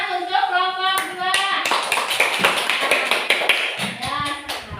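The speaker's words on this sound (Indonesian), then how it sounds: "tepuk tangan untuk kelompok 2" A classroom of students clapping for a group after its presentation, fast uneven hand claps building into a lively burst, with a teacher's voice heard at the start and end.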